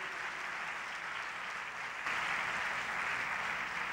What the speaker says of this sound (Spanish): Vamos a dar un aplauso a ellas en este día.